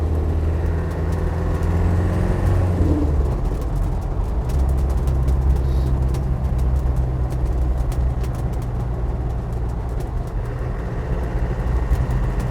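Steady engine drone and road rumble from a classic Land Rover Defender 90 soft top cruising along, loud and continuous throughout, with no talking.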